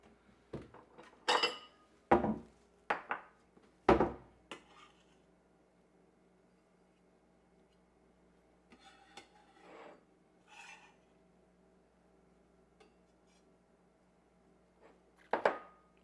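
Knife chopping eggplant on a cutting board for a stir fry, heard as a handful of sharp, close knocks in a loose cluster early on, a few softer clicks midway, and one more firm chop at the end, with no talk.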